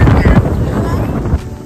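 Strong wind at Rara Lake buffets the microphone in loud, rough gusts, rumbling and flapping unevenly through the moment. A faint voice may sit beneath it.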